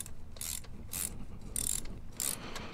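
A socket ratchet clicks in four quick bursts as the oil drain bolt, fitted with a crush washer, is tightened on a Honda Hawk 250 motorcycle, each burst close and crisp with short pauses between.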